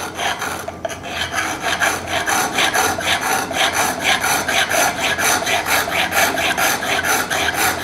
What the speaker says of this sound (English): You have to keep grinding until you get the edge meeting the top and a nice sharp edge on the top.